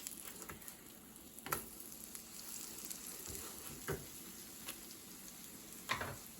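A corn cinnamon bun pancake sizzles and fries steadily in a pan just after being flipped, with a few sharp clicks of the spatula over the continuous crackle.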